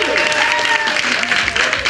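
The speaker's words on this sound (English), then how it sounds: "give yourself a round of applause" Loud applause from a talk show audience, with voices and cheering mixed into the steady clapping.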